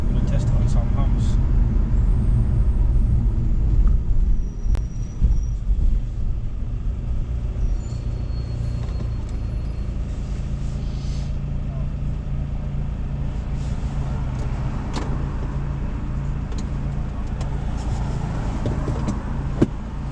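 A 2006 BMW bought for £350 rolls over speed humps, its steady low engine and road rumble close from inside the cabin, with a few thumps and creaks, while people talk throughout.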